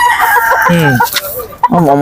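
A rooster from Nigeria crows loudly and close by, a ragged cock-a-doodle-doo followed by a second burst of crowing.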